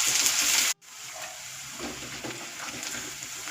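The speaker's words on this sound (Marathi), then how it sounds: "त्यात जिरे मोहरी कांदा आलं लसूणची पेस्ट असं मंद आचेवर गुलाबी रंगावर परतून घेतलं" Cumin, mustard seeds, onion and ginger-garlic paste sauté in a little oil over a low flame, giving a steady soft sizzle that cuts out briefly near the start, then continues quietly.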